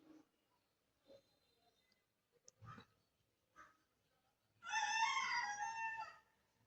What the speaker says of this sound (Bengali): কি সুন্দর মোরগ ডাকছে।